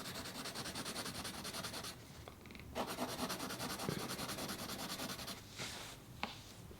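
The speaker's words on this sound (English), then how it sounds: "that's a pencil." Derwent Graphic 3B pencil rubs across paper in close, soft scratchy strokes with short pauses between passes, quiet and alone.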